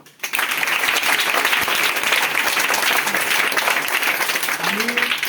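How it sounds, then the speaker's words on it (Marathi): Schoolchildren applaud loudly after classmates perform the morning assembly, a dense sustained burst of clapping that starts abruptly and carries on steadily for several seconds, with a voice heard faintly near the end. "त्या मुलांसाठी एकदा आपण जोरदार टाळ्या वाजू"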